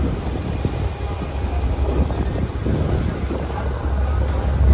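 A ferry crossing from Bhaucha Dhakka in Mumbai to Rewas drones with a continuous low engine rumble mixed with wind across the deck, steady and fairly loud, with a faint high whine overhead.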